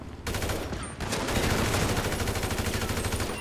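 Rapid automatic gunfire erupts in GTA 5 online play, a dense, loud burst of shots that briefly pauses near the start and then continues as sustained fire.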